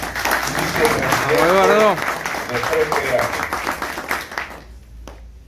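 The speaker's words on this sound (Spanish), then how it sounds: "también pedimos un fuerte aplauso para él." A crowd at a tribute event applauds for Eduardo Segal, with steady clapping under a voice on a loudspeaker. The applause tapers off quickly at the end.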